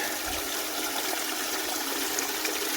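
Water rushes steadily through an Adventure Sluice gold sluice box, a constant hissing flow at moderate volume with no talk.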